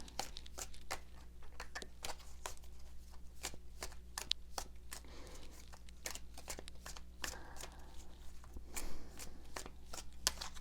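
Tarot cards are shuffled and drawn in a steady stream of close, crisp riffling and slapping card sounds, with occasional soft rustles and no speech over them.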